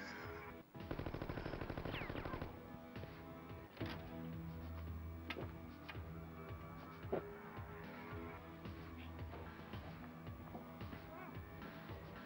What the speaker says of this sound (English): Oh, she's got a machine gun.